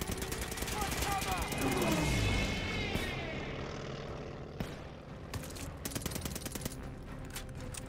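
Rapid bursts of gunfire in the World War II shooter Call of Duty: Vanguard crackle against a plane's engine sweeping past, with dense rattling volleys and a few sharper isolated shots afterward.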